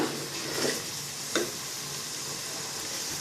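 Cooked biryani ingredients, boiled with a little salt and turmeric, being mixed into masala in a pan, giving a steady broadband sizzle with two brief scraping stirs, no voices.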